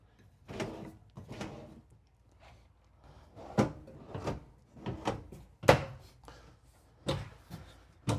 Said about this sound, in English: And then we get 6 more pull-out drawers under the sink.